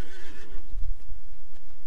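A horse neighs loudly in the Lord of the Rings Online video game, a long wavering whinny up close, followed by a few heavy hoof thuds and snorts.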